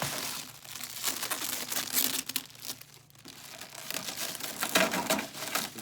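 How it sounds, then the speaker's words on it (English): Paper crinkles and rustles close up in busy, uneven bursts while unboxing an ARRMA RC car, with crumpling and tearing textures continuing for several seconds and no talking. "Oh, there goes the paper."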